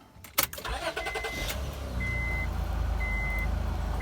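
A 2003–2008 Honda Pilot engine starts with a few sharp clatters, then settles into a steady low idle, with faint intermittent high beeping over the running motor.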